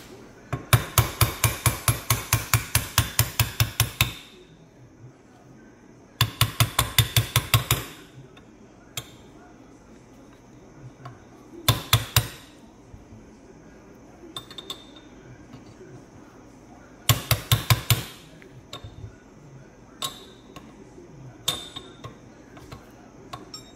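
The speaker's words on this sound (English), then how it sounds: "Now we'll just have to give it a little tap." A hammer taps metal on a vehicle axle shaft during a rebuild, striking in four rapid bursts of many quick, ringing blows with short quiet gaps between them.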